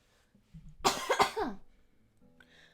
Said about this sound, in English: Have a little bit of a cough